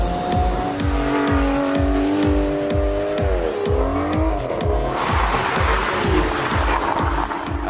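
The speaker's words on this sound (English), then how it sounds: "The Vantage S, once you put it into sport mode, it really takes off." Aston Martin Vantage S in sport mode in the DriveClub racing game, its engine revving hard and climbing through repeated gear shifts, with tires squealing loudly over the top; no talking.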